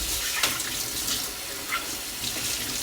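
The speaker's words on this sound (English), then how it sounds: "I'm going to quickly wash the little lid." A small rice cooker lid rinsed under a running kitchen tap, water splashing steadily into the sink with a few louder spatters, close and continuous with no talking.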